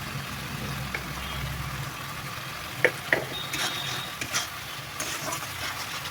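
Spice paste with salt and turmeric fries in a pan, a soft steady sizzle with a few light clinks and scrapes of stirring, fairly quiet and close.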